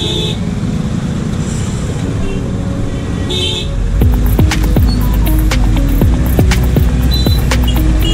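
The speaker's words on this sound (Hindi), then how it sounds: "देख सकते हैं बहुत ही ट्रैफिक है" Heavy traffic on a busy three-lane road near construction work. A constant loud engine roar carries short car and bus horn toots that grow more frequent and closer in the second half.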